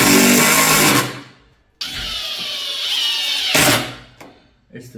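Hand-held power driver spinning a screw, loud whining bursts separated by a short pause, with a brief tail and small clicks at the end.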